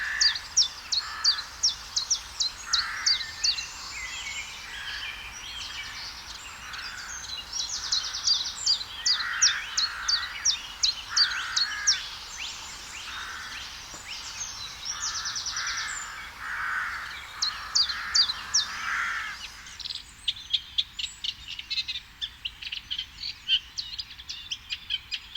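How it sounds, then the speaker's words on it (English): A chiffchaff sings in a spring nature reserve with moors and reeds, repeating its clear two-note song in regular bursts across the whole stretch, with other birds chirping in the background. "there's certainly no mistaking his call"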